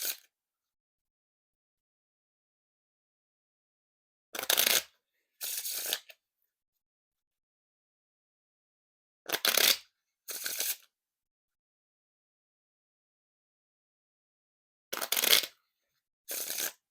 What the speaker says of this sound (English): Now time for the Riffle Shuffle or Bridge Shuffle.